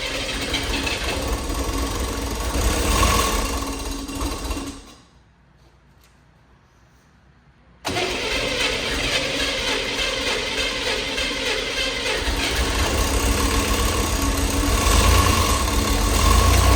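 A small engine runs with the choke plate slightly open, cuts out briefly into near silence, then restarts and settles into a steady, loud, close idle with a rough knocking rumble.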